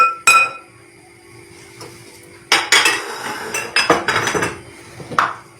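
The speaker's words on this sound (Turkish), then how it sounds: "Malzemelerimizi güzelce çırpıyoruz." A whisk clinks against a bowl as flour, eggs and corn starch are beaten together for pastry cream, with a few isolated taps and then a burst of rapid, irregular metallic clatter, close and fairly loud.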